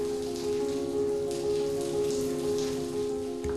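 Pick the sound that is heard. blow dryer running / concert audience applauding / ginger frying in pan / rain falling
rain falling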